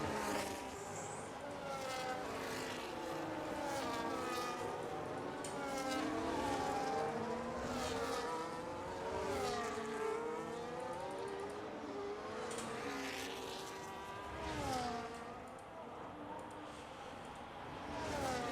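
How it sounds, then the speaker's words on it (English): Formula 1 race car in the F1 25 video game spinning its wheels out of a corner at Bahrain, a loud high-pitched engine wailing and sweeping up and down through repeated gear changes, heard continuously without speech. "Wide, then some big wheel spin on the way out of the corner."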